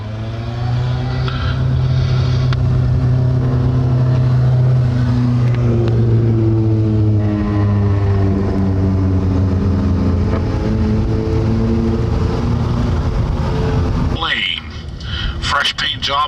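A race car, driven by Tom Lane, laps a speedway at an evening race event, its engine droning loudly with shifting harmonic pitch throughout, while an announcer talks over it.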